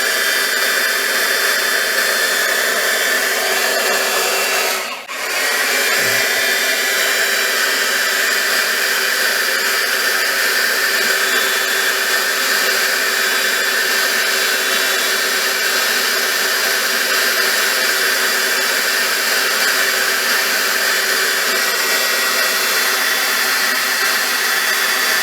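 A heat gun blows a steady, loud broadband roar without pause while paper beads are being made, with only a brief dip in the airflow near the start.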